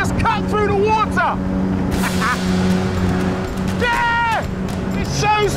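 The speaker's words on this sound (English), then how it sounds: "I'd arranged to get my kicks on a Zego sports boat, a catamaran that shifts thanks to a 30-horsepower engine" Zego catamaran sports boat with twin polyethylene hulls and a 30-horsepower engine, its loud steady motor drone running throughout beneath excited voices, with a sharp surge of rushing water and spray near the middle.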